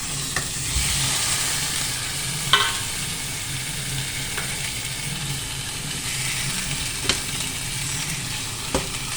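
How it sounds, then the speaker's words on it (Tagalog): Pepper-and-salt seasoned fish frying in a small amount of oil gives a steady close sizzle, broken by a few sharp pops and spatters. "At ngayon ay ipiprito ko siya"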